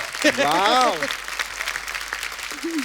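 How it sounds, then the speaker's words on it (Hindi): Studio audience applause for a performance on a Hindi comedy talk show, a loud burst of clapping under a man's sung or drawn-out voice, then continuing more softly to the end. "जोरदार तालियां हमारी परफॉर्मेंस के लिए।"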